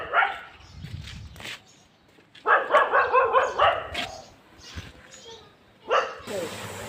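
A village dog barks in a quick run of yaps near the middle, with fainter barks before and after and people's voices mixed in.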